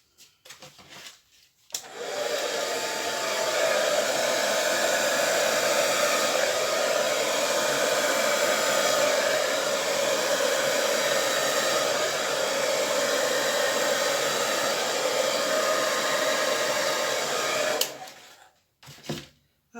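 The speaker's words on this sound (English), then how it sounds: "change the angle of the hairdryer" A hairdryer blows steadily across wet acrylic paint in a Dutch pour, starting abruptly after a short pause and running loud and close for about fifteen seconds before cutting off.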